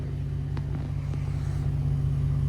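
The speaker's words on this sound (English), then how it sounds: "You have an exhaust note." Idling engine of a 2020 Ford F-150 Raptor heard through its aftermarket dual exhausts: a steady, deep, close rumble with a constant low drone and no revving.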